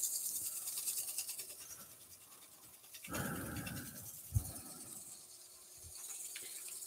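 A turned wooden cheese platter burnished with a handful of wood shavings gives quiet rubbing and hissing friction over a faint steady hum, with a louder scrubbing burst partway through and no speech.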